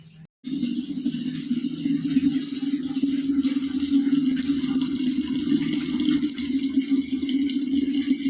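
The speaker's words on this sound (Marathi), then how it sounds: "बघा पाणी भरत" Water filling a container in a home kitchen, a steady loud rushing stream that starts abruptly after a brief pause and runs unbroken to the end.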